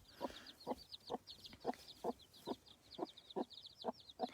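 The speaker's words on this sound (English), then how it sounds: "she'll cluck really loudly" A hen on a small farm clucks in a steady series of about ten short, evenly spaced calls, close and fairly soft, with faint chirping from chicks or other birds running high in the background.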